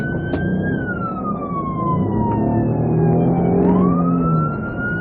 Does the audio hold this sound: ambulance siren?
yes